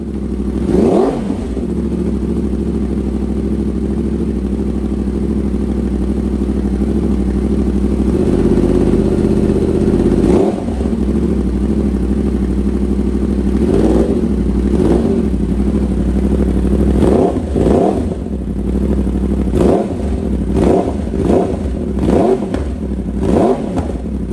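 A 2021 Yamaha R1 sport motorcycle with a decat exhaust starts up and idles with a deep rumble, then revs sharply several times in short bursts, close and loud throughout.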